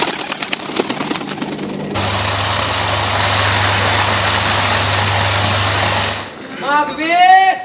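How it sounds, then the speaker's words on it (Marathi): An electric motor hums steadily and loudly for several seconds, then cuts off abruptly, followed by a man calling out in a raised voice. "अरे मोटर बंद पडली बाबा."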